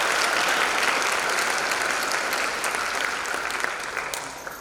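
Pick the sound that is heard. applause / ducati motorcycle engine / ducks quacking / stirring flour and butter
applause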